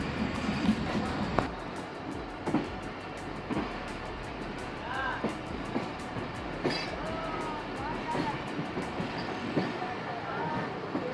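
Shah Latif Express passenger train running after leaving Bin Qasim near Karachi, heard from inside: a steady rolling rumble with scattered wheel clicks and rattles, and faint voices in the background.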